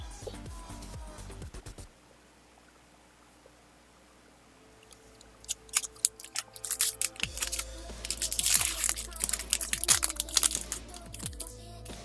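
Crinkly plastic wrapper of a Magic: The Gathering Amonkhet booster pack being torn open and crumpled at close range, quiet at first, then a dense run of sharp crackling bursts with no talk.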